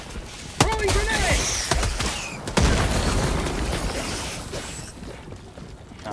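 Several sharp blasts and crackling impacts in Helldivers 2 combat, with a grenade among loud, close bursts spread over a noisy battle bed, voices talking throughout.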